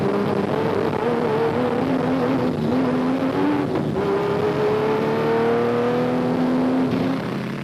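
A Nissan Navara SP rally truck in a desert race roars loudly and close by, its engine tone climbing and falling through gear changes over steady road and wind noise.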